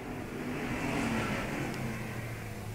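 Street stock race cars roar around Star Speedway wheel to wheel, a loud, continuous engine drone with rising revs as the cars pass.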